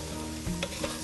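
Carrots and zucchini sizzle in a hot pan with a steady, close crackle. A brief scrape or clink comes midway, and no one speaks.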